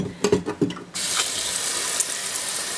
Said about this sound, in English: first I have to fill up my water here. Let's take this over to the sink.